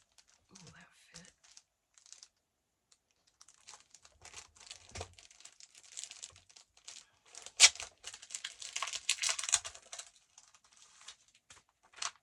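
Stickers being peeled off a sheet for a seasonal journal, bursts of close crinkling and tearing with quiet gaps between, one sharper rip partway through.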